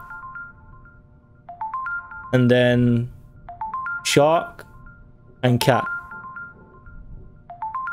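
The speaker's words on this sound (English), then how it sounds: "Am I gonna hear that ringing until I log in now?" A phone ringtone sounds in a video game as a repeating electronic melody of rising tones, mixed with loud game voices and talking throughout.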